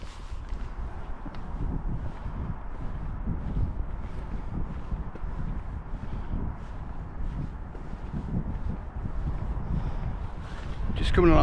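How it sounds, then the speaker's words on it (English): Wind buffets a microphone on a pier, a steady rumbling roar that runs the whole time and swells louder toward the end, with no voices. "A little bit of wind coming through."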